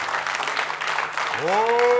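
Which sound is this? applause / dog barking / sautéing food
applause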